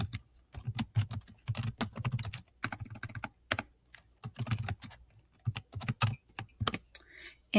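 Quick, uneven clicking of keys as a message is typed on a Chromebook keyboard, close and clear, with short pauses between bursts of keystrokes.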